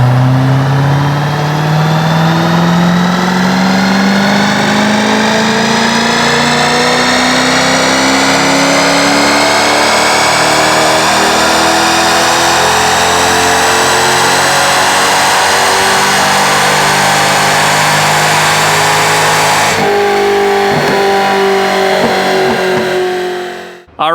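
A tuned Corvette engine on a dyno, set to open loop, revs hard through a long, steadily rising full-power pull for about twenty seconds, then abruptly lets off. It is loud and close, with no talk.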